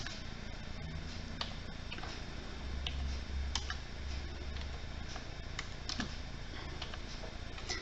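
Someone types code into MATLAB on a computer keyboard, producing faint, irregular clicking keystrokes, some in quick bursts and others spaced apart, over a soft background hiss.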